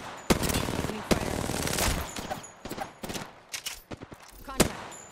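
Automatic gunfire from the video game Apex Legends, with sharp individual shots and rapid bursts loud in the foreground over a dense layer of other game sounds.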